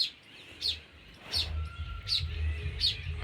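A sparrow chirps in short, sharp bursts, about five calls spaced roughly evenly, over faint low background rumble.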